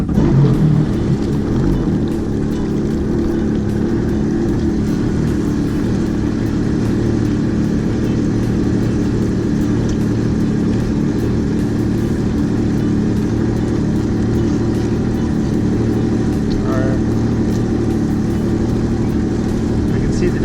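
A jet ski engine runs at a steady idle, a continuous low rumble holding level throughout with no breaks, close and fairly loud.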